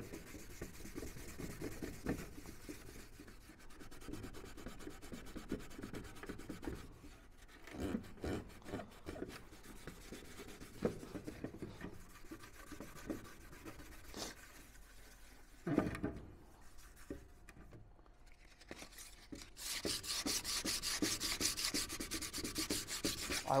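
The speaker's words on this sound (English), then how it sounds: "The better job we do sanding, the better the paint's gonna stick and the less it's gonna chip off throughout the season." A football helmet is sanded by hand with sandpaper before repainting, giving an uneven rasping scrape that comes in short strokes and bursts at close range, growing busier and louder toward the end with no talk.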